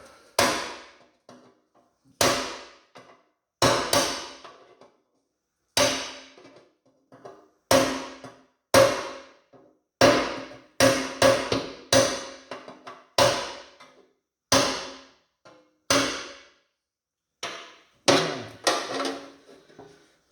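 Hammer blows knocking dents out of a steel engine oil pan resting on a concrete floor, sharp ringing strikes in uneven groups and singles, close and loud, with no talking.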